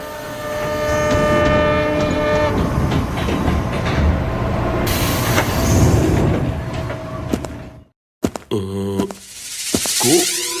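Animated train pulling into a station: a steady rumbling rush with horn-like tones, a brief drop to near silence, then a few final mechanical clanks and tones, no talk.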